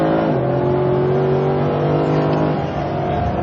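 A Mercedes SLS sports car engine howls on a race track, loud and close, a sustained high-revving roar whose pitch climbs and then drops steadily across the clip, with no talking.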